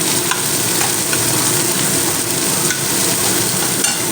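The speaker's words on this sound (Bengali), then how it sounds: "পেঁয়াজটা ঠিক দু থেকে তিন মিনিটের মতন কষিয়ে নেবো তেলের মধ্যে" Chopped onions sautéing in hot oil in a pan for a fish recipe, a loud, close, continuous sizzle with repeated scraping and stirring strokes of a spatula.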